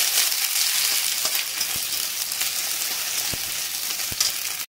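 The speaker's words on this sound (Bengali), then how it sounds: "আদা রসুনটাকে একটু ভালো করে ভেজে নেবো।" Ginger-garlic paste frying in a pan of oil, a steady, dense sizzle that holds for several seconds, with a few faint clicks from stirring, close and fairly loud with no talk.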